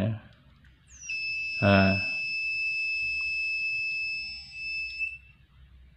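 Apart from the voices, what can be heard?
homemade gas leak detector alarm buzzing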